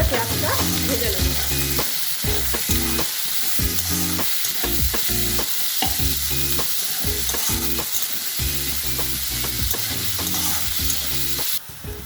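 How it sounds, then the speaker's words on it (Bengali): Chopped onions with a pinch of salt fry in a pan, sizzling steadily and loudly while a spatula scrapes and stirs them in quick, repeated strokes, with no talk. "এরপর আমি নেড়ে চেড়ে ভালো করে পেঁয়াজটা ভেজে নেব।"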